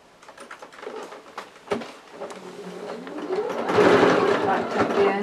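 A sewing machine stitches around a curved fabric seam: rapid mechanical running that speeds into a steady, busy hum, close and continuous.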